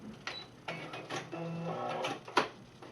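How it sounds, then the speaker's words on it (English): A sewing machine stitches fabric for a basic face mask in short, steady mechanical whirring runs broken by brief pauses, with a sharp click near the end and no talking. "Anchor your stitch and sew it flat."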